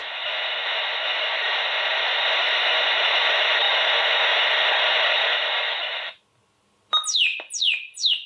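Three quick descending synthetic chirps from a Sanyo PHC-25 computer follow a long hiss and a brief silence, sounding like an electronic bird call.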